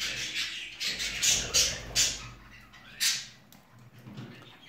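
Budgerigars give harsh, scratchy squawks in bursts over a rustling background, some louder and closer than others.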